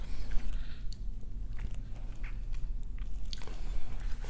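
Close, soft biting and chewing of Korean boiled pork wraps with kimchi, bossam style, as wet crunchy mouth sounds repeat steadily in a quiet room with no talking.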